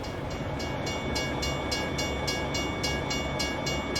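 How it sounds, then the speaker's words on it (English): In American Truck Simulator, a train rumbles past at steady volume, a continuous broadband roar with faint rhythmic clatter of wheels over rail joints, and no voices. "Let's listen to this train going past."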